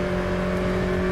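A McLaren Senna GTR engine drones steadily in rFactor 2, a loud, continuous tonal hum with strong even harmonics and no clear revving change over the short stretch.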